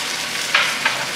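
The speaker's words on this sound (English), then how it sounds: "I'm going to go ahead and add the hot little chopped pepper that we did. Put that in there." Chopped hot pepper tipped into a pan of sizzling chicken for chicken cacciatore, giving a steady frying hiss with two brief soft bursts of added ingredients and stirring.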